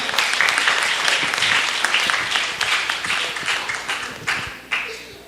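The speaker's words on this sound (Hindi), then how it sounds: "तालियां।" Audience applause at a poetry recitation contest in Aurangabad, a lively burst of many hands clapping that gradually thins out and fades, with a few last scattered claps.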